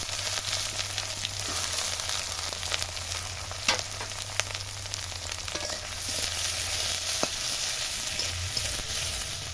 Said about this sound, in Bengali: পেঁয়াজ মরিচ কেটে রাখছিলাম সেটা এখন আমরা তেলের মধ্যে দিয়ে দেবো